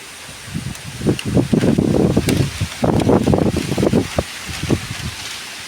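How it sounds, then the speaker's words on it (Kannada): Wind gusts through a rubber plantation as latex is being tapped, a close, rough rushing and rustling that swells in bursts and eases, heard alone with no talk. "ಒಳ್ಳೆ ಗಾಳಿ ಕೂಡ ಬರ್ತಾ ಉಂಟು."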